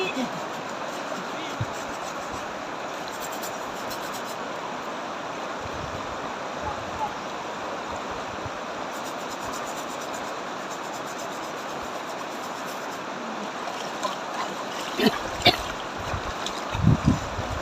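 Water pours and splashes steadily as someone bathes in a cool outdoor stream, the running flow continuous throughout with a few sharper splashes near the end, while people talk nearby.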